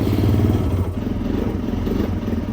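A vehicle engine rumbles steadily on a ranch, a low, close, continuous drone with slight variation and no talk over it.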